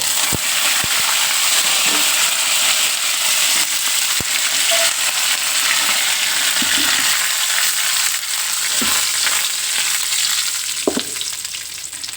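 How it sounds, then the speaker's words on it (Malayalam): Loud, crackling sizzle of chilies and curry leaves frying in hot oil, continuous throughout with occasional sharp pops and stirring scrapes. "അതൊക്കെ പൊട്ടി നമുക്കിനി മുളകും കറിവേപ്പില"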